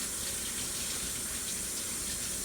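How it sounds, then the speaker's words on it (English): Tap water runs steadily into a sink while hands are washed, a constant close hiss of flowing water throughout with no voices. "I'm going to wash my hands because I can't stand stuff on my hands."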